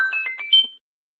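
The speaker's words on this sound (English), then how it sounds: "I guess you guys can hear the text messages" A phone's text message notification tone plays loud and close, a quick run of bright electronic chime notes ending in a higher held note, then silence.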